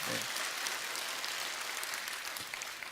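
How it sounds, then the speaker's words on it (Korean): A church congregation claps briefly during a revival service, a faint, soft patter of hands heard from a distance that fades quickly. "우리 박수 한번 보냅시다"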